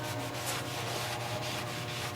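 Clean rags scrubbing over the clutch surfaces of a 2006 Toyota Tacoma 4.0L X-Runner, a steady, close rasping rub that keeps going without a break.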